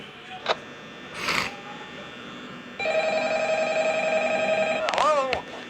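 A telephone rings in the Five Nights at Freddy's horror game, a steady electronic ring holding for a couple of seconds between brief bursts of other game noise.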